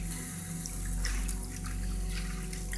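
Water pouring and splashing as a large batch of dandelion greens, about eight oversized bundles, drops into a pot of hot water on a stove; a steady running, trickling wash with small splashes, close and moderately quiet.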